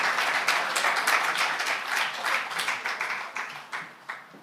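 Audience applause at the Academia-Public-Private Partnership Forum: dense, steady clapping from a crowd that thins out toward the end into a few scattered, separate claps.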